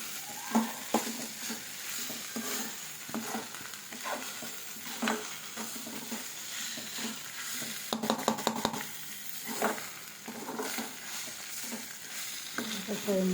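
Sheep blood frying in a pan with coriander leaves and a little water, a continuous close sizzle with regular scraping and stirring strokes and occasional light clinks of the utensil, no voices.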